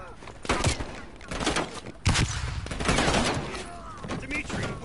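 Enemy gunfire in the video game Call of Duty Black Ops Cold War, loud bursts of rapid shots in several volleys with heavy thumping impacts, close and dominant, with a voice mixed in.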